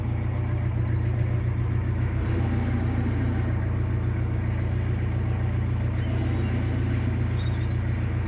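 A boat's bow thruster runs steadily during a cruising lesson, giving a continuous low droning hum with machinery rumble that holds evenly throughout, with no voices on top.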